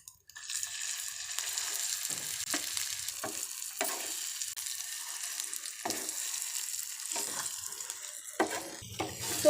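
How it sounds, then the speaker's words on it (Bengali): Mashed potato fries in a pan with ginger paste for potato chops, a steady hissing sizzle broken by repeated scraping stirs of the spatula, ending with a louder clatter. "তো আলুটাকে ভালো করে শুকনো করে ভেজে নিয়েছি।"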